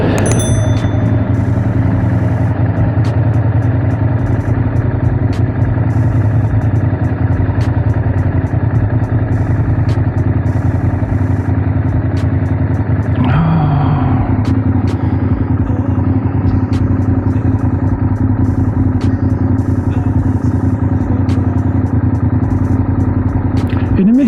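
A Honda VTR1000 Firestorm V-twin motorcycle engine running steadily, a loud continuous low rumble that stays even throughout, with a brief clatter partway through.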